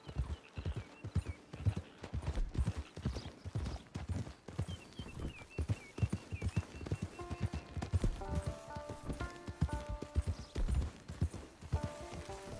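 Horse hooves clip-clop steadily in Red Dead Redemption 2 as a rider travels toward camp, the rhythmic steps running throughout beneath a musical score, with an occasional whinny.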